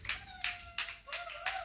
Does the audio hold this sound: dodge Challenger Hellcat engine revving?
no